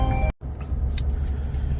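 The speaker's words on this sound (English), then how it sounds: "it's just a big ass truck" A big truck drives along a road near Waterford in Loudoun County, Virginia, a steady close rumble of engine and tire noise that cuts out for a brief moment before resuming.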